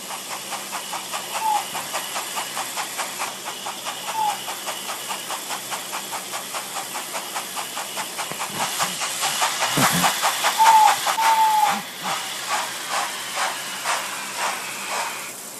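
A cartoon train pulls into a station with rhythmic chugging and bursts of steam hiss. Whistle-like tones come and go, and a louder hissing surge arrives near the end.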